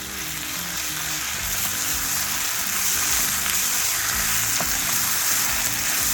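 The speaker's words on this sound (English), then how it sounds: "And let's add some salt, just for now to taste to flavor the onion. One more scoop of salt. Give it a stir." Onions seasoned with salt fry in a pan while being stirred, a dense, continuous sizzle at close range with soft scraping movements and no voices.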